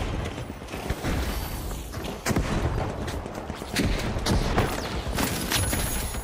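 Grenade launcher firing in The Finals, a four-shot weapon, with repeated sharp explosive bursts over dense, continuous game noise and mechanical clatter; loud and busy throughout.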